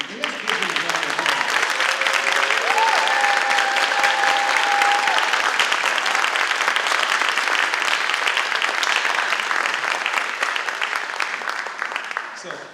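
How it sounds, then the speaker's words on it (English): Long, even applause from a school ceremony audience honoring teachers of the year, a dense wall of clapping that holds steady for over ten seconds, with a brief cheer or voice early on. "let's give them a round of applause"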